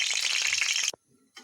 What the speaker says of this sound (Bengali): শুকনো লঙ্কা দিয়ে দেব